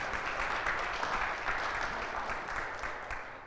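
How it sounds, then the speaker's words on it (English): A crowd applauds steadily at a live Bay Games Grand Slam 2019 event as apprentice Cody Edwards is welcomed to the stage, a dense wash of clapping held at even strength before easing slightly at the end. "Cody, you didn't get as big a round of applause"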